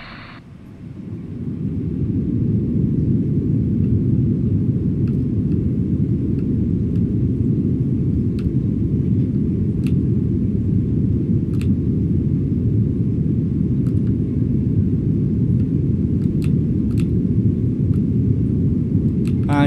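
Aircraft taxiing onto a stand in the airport ground-handling game AirportSim, a steady loud low jet engine rumble that swells in after a quiet start and holds unbroken, with faint clicks above it.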